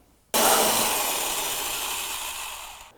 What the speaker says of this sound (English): So I'll go ahead and drill these out.